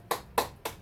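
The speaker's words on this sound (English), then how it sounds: "Give yourselves a clap." Three sharp, evenly spaced claps from children during a morning circle-time session, each a short bright burst with quiet gaps between.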